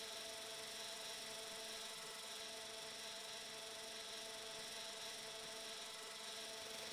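A drone in the Arma 3 video game flies steadily, its constant high-pitched buzzing whir holding at an even level throughout with no talk over it.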